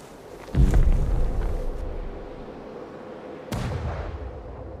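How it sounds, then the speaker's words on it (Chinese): Artillery cannon fire booms in a war comedy film: one heavy blast lands near, a second strikes later, and each is followed by a long rumbling tail. "这回是真的大炮了"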